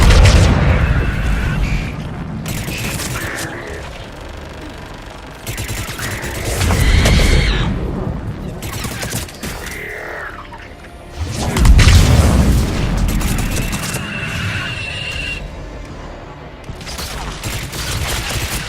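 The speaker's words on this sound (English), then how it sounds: "Missiles are hot. That's it for the missiles." Missile fire and explosions in the Mass Effect 3 video game, set on Thessia, rolling in loud repeated waves of booming blasts and rapid gunfire-like bursts that rise and fall over nearly twenty seconds.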